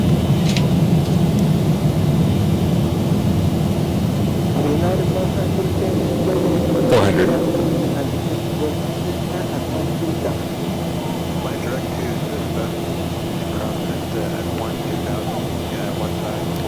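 Boeing 737 jet engines at takeoff power in the X-Plane 12 flight simulator, heard as a loud, steady, continuous roar and rumble with one brief higher tone partway through.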